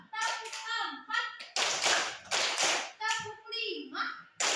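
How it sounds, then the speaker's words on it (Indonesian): Elementary school children in an arts lesson clap their hands in a short burst of quick, loud claps, with children's voices chanting before and after. "Coba tepuk empat,"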